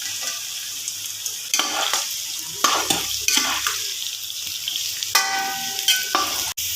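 Sliced onion and cut potatoes fry and sizzle in a pan while being stirred, with steady hissing and several scraping clatters of the spoon against the pan, close and loud, no voices.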